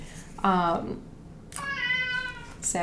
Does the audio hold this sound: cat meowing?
yes